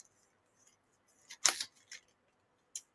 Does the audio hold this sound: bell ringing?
no